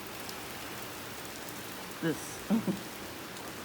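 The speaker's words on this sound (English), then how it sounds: "We just got more, you know, more rain just coming out." Steady rain falls outside in an even hiss throughout, with a couple of brief voice sounds breaking in near the end.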